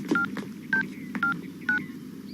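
A telephone number is punched in at a government office, producing four short, evenly spaced touch-tone beeps, clear and close, over a low background hum.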